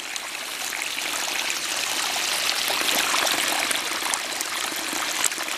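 Water spilling steadily over a leaky weir wall, a continuous broad rushing and trickling wash, close and even, with no voices.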